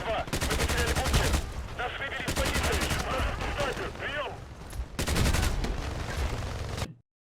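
AK-47 gunfire in the online shooter Battlefield Play4Free, long loud automatic bursts of rapid shots separated by short pauses, with battle noise in between and a sudden cutoff at the end.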